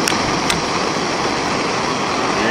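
A camping stove's gas burner hisses steadily and loudly at close range after the valve is opened, a constant rushing roar with a couple of faint clicks near the start.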